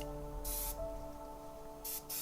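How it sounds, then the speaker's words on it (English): An airbrush sprays paint onto an ogre miniature in short hissing bursts, one near the start and two more near the end, close-up over a low background hum with no talking. "Then straight into the airbrush again, and an even coat over it."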